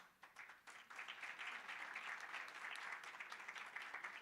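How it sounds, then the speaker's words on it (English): Audience applause at a child rights symposium, a continuous wash of many hands clapping at even strength, fairly distant and quiet. "a round of applause again to"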